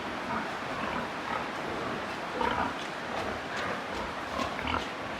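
Pigs on a farm under sprinkler water, a cheap artificial rain to ease the heat: a continuous hiss of falling spray with occasional low grunts mixed in.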